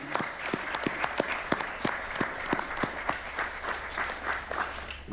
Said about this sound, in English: We'd like to give you a round of applause and thank you for attending this hearing.